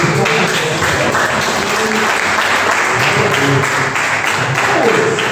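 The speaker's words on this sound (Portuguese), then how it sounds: "Você pode aplaudir ao Senhor." A church congregation applauds steadily and loudly for several seconds, a dense, even wash of clapping with faint voices beneath.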